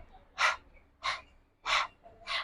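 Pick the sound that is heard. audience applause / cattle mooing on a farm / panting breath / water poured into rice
panting breath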